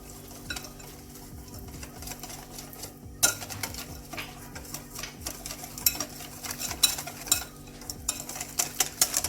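Cupcake batter with added yeast being stirred in a bowl, a steady scraping and clinking of utensil against dish that runs continuously for several seconds, close and moderately loud with no voices.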